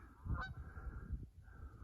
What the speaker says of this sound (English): There's a noisy Canada goose out there,